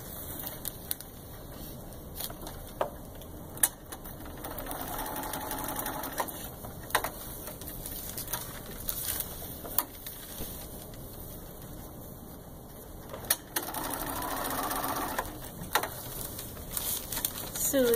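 Sewing machine basting a quilt piece at a quilting retreat, running in a steady mechanical whir with short pauses and restarts, fairly close and moderately loud, with faint voices in the background.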